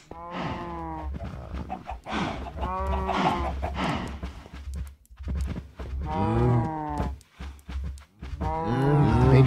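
Cattle in the Minecraft video game moo repeatedly, several loud, close calls one after another with short gaps between them, no talking over them.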